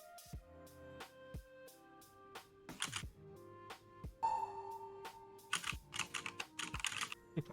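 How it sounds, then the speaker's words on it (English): Loud, rapid keyboard typing comes through a teammate's open voice chat mic during a Final Fantasy XIV Baldesion Arsenal raid, with clustered keystrokes in bursts over faint game music and tones. "whoever is that loud person typing, please mute yourself"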